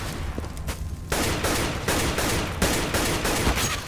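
Rapid gunfire crackles in a Counter-Strike match on de_nuke, with several sharp bursts of shots in an exchange between players, steady and fairly loud with no talking.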